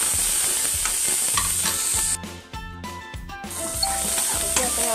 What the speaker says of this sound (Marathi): गॅस फास्टच ठेवायचा आणि हे असं सॉटे करून घ्यायचं व्यवस्थित आपल्याला।